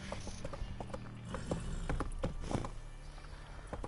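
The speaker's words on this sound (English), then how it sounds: "I'm trying to get the fucking horse down the stairs." Horse hooves clop on stairs in a video game, loud near steps in an uneven rhythm with several sharp hits over a busy game background.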